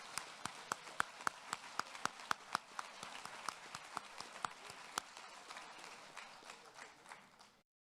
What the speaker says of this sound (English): I think you deserve a loud round of applause